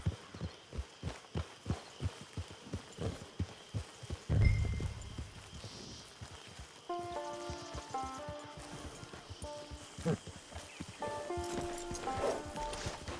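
Horse hooves clip-clopping at a steady walking rhythm in Red Dead Redemption 2, with a brief snort-like burst midway, then game music and ambient tones layering over the continuing footsteps.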